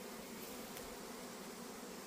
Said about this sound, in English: The bees are out today, but they're not in an angry mood or anything.